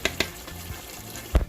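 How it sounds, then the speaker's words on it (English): A spoon scrapes and clinks against a pot of collard greens simmering on the stove, with a few sharp taps, soft stirring and a louder knock at the end over a faint sizzle. "Stir it up a little bit"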